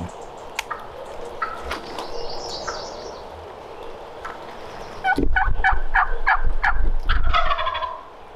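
A wild turkey gobbler on public hunting land gobbles loudly and fairly close in a few rattling bursts near the end, with softer hen calls and birdsong before them and no talk.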